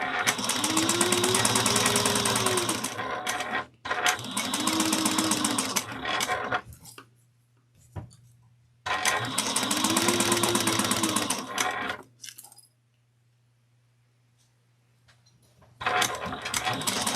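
A sewing machine stitching quilted fabric runs in several loud, close bursts of rapid steady whirring, separated by short pauses and a longer quiet stretch with faint clicks.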